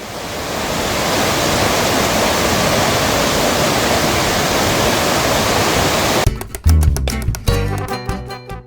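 Water rushes loudly and steadily from a waterfall at Khlong Nam Lai, Kamphaeng Phet, Thailand, for several seconds before giving way to close clattering handling noises.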